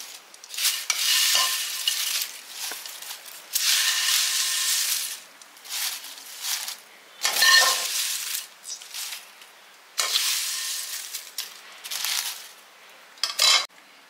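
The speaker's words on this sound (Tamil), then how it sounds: "இப்போ எல்லாத்தையும் சேர்த்து நம்ம அரைச்சிட்டு வந்துடலாம்" A mixer grinder grinding roasted garlic and curry leaves, running in repeated loud pulses of harsh whirring noise separated by short pauses, with no talking.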